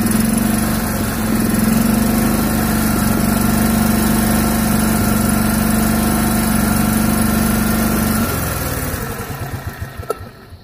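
A DS 290 D engine runs after repair, with new belts, a cleaned carburetor, a new ignition coil and an adjusted rev limiter. It holds a loud, steady, close idle for about eight seconds, then winds down and shuts off.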